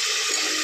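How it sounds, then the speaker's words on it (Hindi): Taro root pieces drop into a pan of sizzling fried masala, giving a loud, steady hiss of hot oil that carries evenly through the short moment without any voice. "अब हम इसमें डाल देंगे घुइयां।"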